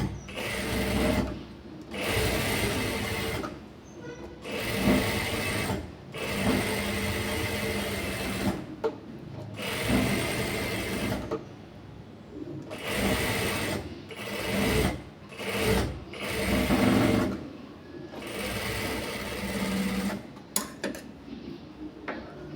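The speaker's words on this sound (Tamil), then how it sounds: "இப்போது நம்ம இந்த பக்கமும் ஸ்டிச் போட்டுடலாம்." A sewing machine stitches the front of a blouse in loud, rapid bursts of mechanical chatter, separated by short pauses as the fabric is repositioned, each run lasting a second or two, close and clear.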